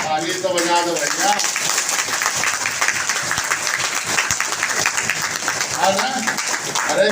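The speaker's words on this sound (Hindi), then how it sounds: "ताली तो बजा दो भैया।" Crowd clapping at a Nishad Party political rally, steady dense applause filling the whole stretch, with a voice speaking over it at the start and again near the end.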